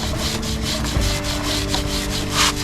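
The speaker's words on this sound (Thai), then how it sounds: "หมุนรถไปเรื่อยๆเลยเราใช้แปรงขัดโซ่ขัดไป" A brush scrubs the drive chain of a Ducati Monster 937 motorcycle, making close, steady rhythmic rasping strokes repeated about every quarter second with the wheel turned by hand.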